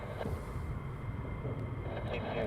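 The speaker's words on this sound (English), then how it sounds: "Now we have the F-15s taxiing down the runway 24." F-15 jets taxi along a runway at RAF Lakenheath at night, giving a steady broad engine roar and rumble at moderate distance. A voice talks over it.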